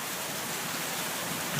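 Golf-ball-sized hail pours down in a Phoenix, Arizona backyard, a dense, continuous hiss of countless impacts at steady loudness with no talking.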